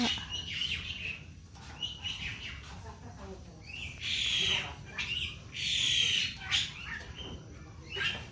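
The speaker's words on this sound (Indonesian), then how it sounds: "Ada burung kakatua juga." A cockatoo at an outdoor campsite gives loud, harsh screeching calls in two strong bursts, mixed with other chirps and people talking nearby.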